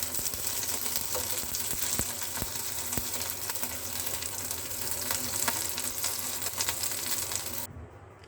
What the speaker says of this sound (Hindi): तो इसे आप शैलो फ्राई ही करें।